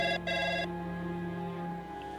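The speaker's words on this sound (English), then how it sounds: "the phone starts ringing" A telephone rings early in the morning: a bright electronic ring sounds twice in quick succession, then fades into a low, quiet hum.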